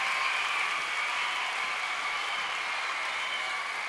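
An audience at a 2001 concert applauds in a dense, even wash of clapping that holds steady throughout, loud and continuous without voices on top.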